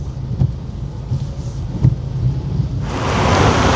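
Low rumbling and thuds give way to a dense, hissing downpour of heavy rain that swells and stays loud at the end.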